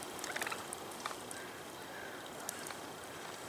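Wild turkeys gobble outdoors on the Oregon coast at Bandon while being tossed raisins, their calls faint and scattered over a steady wash of wind and distant surf, with a few brief louder bursts.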